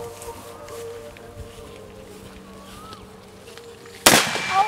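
A Saiga shotgun fires a single sharp, loud blast near the end, following a stretch of quiet outdoor background.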